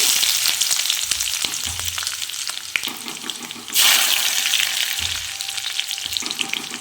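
Chopped garlic fries in hot tempering oil for restaurant-style egg tadka, a loud, steady sizzle broken by stirring scrapes and a sudden louder hiss partway through.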